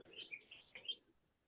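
Outdoor birds chirp and tweet in a steady string of bright, overlapping calls, fairly faint and somewhat distant, with no voices.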